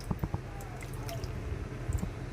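Sour tamarind water is poured into ragda chaat, a soft wet dribbling and splashing close by with a few drips and squishy sounds, low and fairly quiet over kitchen background.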